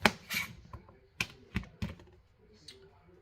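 A knife chops food on a cutting board while a weeknight dinner is prepared at home, giving several sharp, close knocks in an uneven rhythm with short pauses between them.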